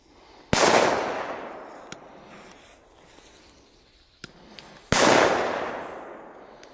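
Two loud silver banger firecracker bangs a few seconds apart, each with a long rolling echo, plus a couple of fainter distant pops in between.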